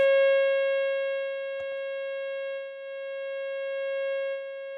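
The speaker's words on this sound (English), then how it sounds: "Remove the diodes. It goes back to a sine wave." A Grammatico GSG100 guitar amp with its clipping diodes removed puts out a steady sine-wave test tone, a single continuous pitch with faint overtones, loud and unbroken, with a brief tap partway through.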